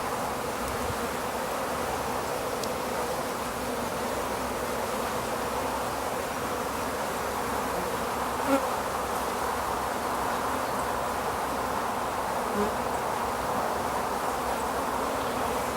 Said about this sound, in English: The bees are fairly calm,